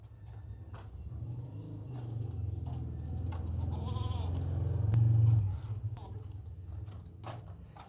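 A goat bleats repeatedly, loud and close, a long wavering call building near the middle, while someone talks nearby.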